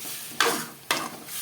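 Boiled field beans stirred into a frying kuzhambu, with two quick scraping sweeps of a spoon through the pan over a steady, close sizzle.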